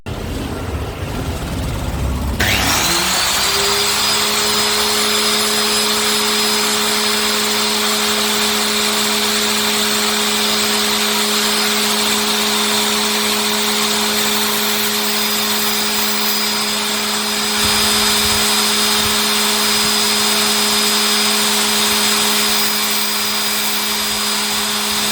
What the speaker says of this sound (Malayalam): നമ്മൾ ടേബിളിൻ്റെ പുറത്ത് ഈ ടൈൽ കട്ടർ സെറ്റാക്കി വെച്ചിട്ടാണ് നമ്മൾ ബ്ലേഡ് രാവുന്നത്.